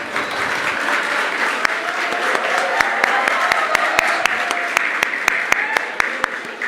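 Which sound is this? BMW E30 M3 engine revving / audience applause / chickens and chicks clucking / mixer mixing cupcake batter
audience applause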